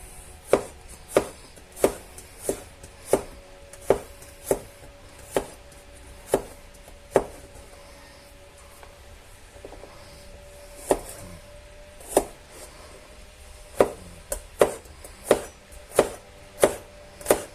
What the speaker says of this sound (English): I'll start off by finely chopping up some garlic